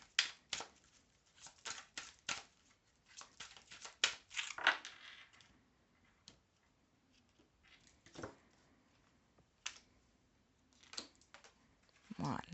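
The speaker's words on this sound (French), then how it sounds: "je tire 3 cartes, vous en choisissez une" Tarot cards being drawn and handled close up, heard as quiet, irregular shuffling, flicking and tapping sounds in short bursts with pauses between.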